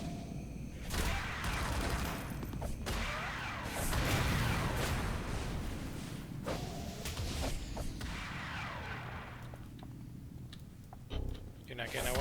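In the City of Heroes video game, an auto turret fires rapid, continuous bursts of gunfire mixed with whooshing effects and clicks, loud and busy throughout, with a brief lull near the end.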